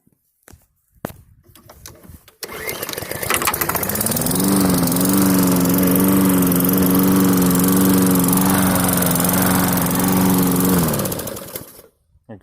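A Mac Allister petrol lawn mower with a Briggs & Stratton 450E engine starts after a pull and then runs at a loud, steady drone for several seconds before cutting off, heard close up without talk.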